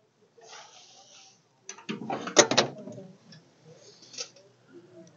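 A latch clicks and the piano-hinge hood of a 1929 Lincoln Model L Sport Phaeton creaks and clunks open, with a few metallic clicks close by, followed by quieter rustling.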